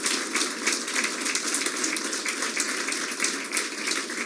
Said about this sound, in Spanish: Den un aplauso al Señor Jesús